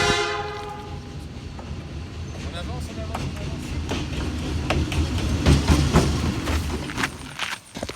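Train passing on the railway near Machu Picchu in Peru, its horn sounding early before rumbling wheels and clacking cars build and stay loud nearby, with voices talking underneath.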